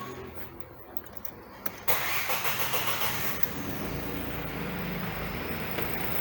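A Ka three-cylinder car engine with its phase sensors disconnected, running on the rotation sensor alone, cranks briefly and then catches into a steady, loud idle close by.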